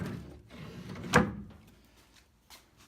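A drawer in the truck bed storage of a 1992 Ford Ranger slides in with a low rumble and lands with one sharp thud, followed by a faint knock, close and with no talk.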